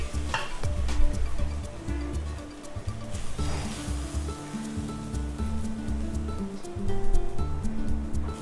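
Leftover roti hakka noodles, made from chapati strips, are tossed and mixed in a hot pan with two forks, giving a close, loud sizzle with rustling stirring strokes and soft clinks over background music.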